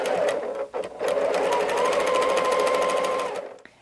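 A sewing machine chain piecing quilt fabric pieces runs steadily at close range, a rapid even needle rhythm broken by a short pause near the start, then stopping near the end.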